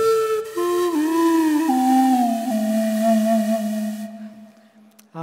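Electronic wind instrument played with one hand and a breath attachment, emulating an acoustic instrument: a sustained melodic line of smooth gliding tones, played alone and fading out near the end.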